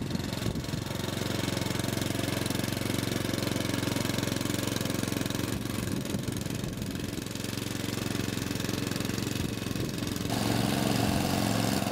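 A homemade power barrow's engine runs steadily in top gear across level ground, a continuous close, loud rattling drone with slight shifts in tone, no speech.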